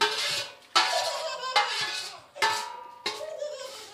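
Fried chevdo ingredients are tossed into puffed rice with a metal spoon in a steel vessel, giving five sharp metallic clanks, each followed by a ringing scrape and rattle that fades away.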